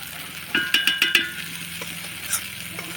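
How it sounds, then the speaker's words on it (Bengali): Masala being stirred and fried in a kadai, with a short run of sharp scraping strokes near the start, then a soft steady sizzle with a few faint scrapes. "এটা এখন ভালো করে একটু নাড়াচাড়া দিয়ে কষাই নিতে হবে"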